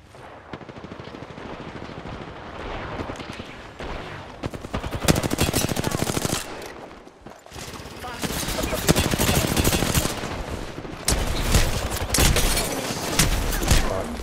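Sustained automatic and single-shot gunfire from an Apex Legends battle royale match, loud and dense for most of the stretch with a brief lull midway, heavy bursts overlapping throughout.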